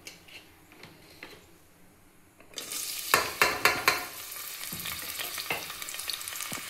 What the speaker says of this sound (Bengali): এরপরে পেঁয়াজগুলো ভাজতে দেবো।